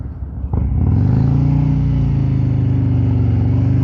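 A 2023 Harley-Davidson Road King Special motorcycle rumbles while riding, its engine note rising and then settling into a loud, steady, close drone.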